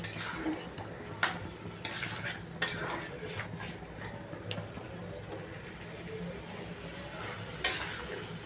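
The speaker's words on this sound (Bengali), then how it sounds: "এবার আমি এটা কষাবো।" Spiced potatoes for aloo dum sautéed and stirred in a pan, a spoon scraping and clinking against the metal in irregular strokes over a low, continuous frying sizzle.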